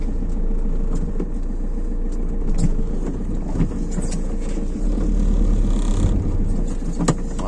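A car strains uphill on worn-out tyres that slip on the slope, its engine a steady loud drone with scattered knocks and rattles throughout, no talking.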